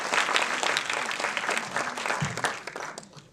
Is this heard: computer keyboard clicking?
no